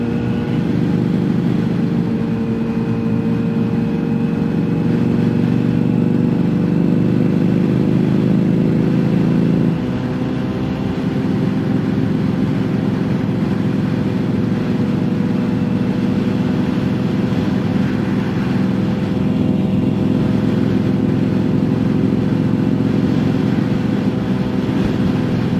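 A motorcycle engine runs steadily up close for a long stretch, a loud droning hum that holds one pitch, then drops slightly and continues evenly to the end.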